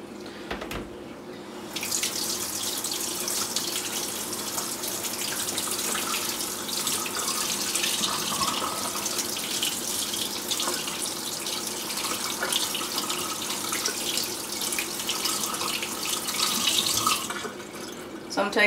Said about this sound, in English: by getting it very hot and then running the cold water over it, you're going to cause the glass to stress and it should break